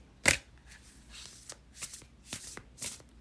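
Tarot cards being shuffled by hand, a sharp riffle at the start followed by several softer bursts of card handling, close and quiet with no talk.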